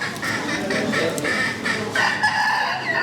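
A yellow barred chabo rooster crows in an indoor poultry show hall, the call rising above a busy, continuous background of other birds and hall noise.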